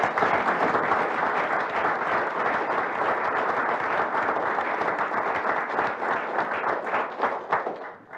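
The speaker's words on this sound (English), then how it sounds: "let's give them a round of applause" Applause for presenters at a university board of regents meeting, a room full of people clapping steadily and densely for several seconds, then thinning out toward the end, no speech over it.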